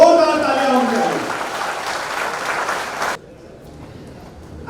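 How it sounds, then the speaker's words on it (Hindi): Loud crowd applause at a Miss India event, dense and sustained over a voice speaking over it, then stopping abruptly and leaving a quiet room. "हाथ उठाकर हवा में जोरदार तालियां होंगी"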